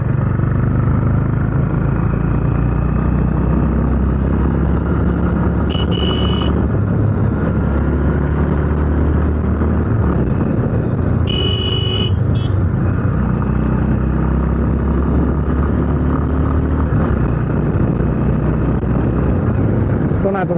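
A Honda Highness CB350 motorcycle engine drones steadily while riding, with a constant low rumble and wind noise under occasional talk from the rider.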